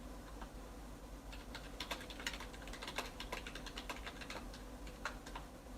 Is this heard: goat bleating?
no